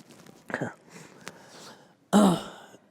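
A few soft throat sounds lead into one sharp, louder cough near the end, close to the microphone in a quiet room.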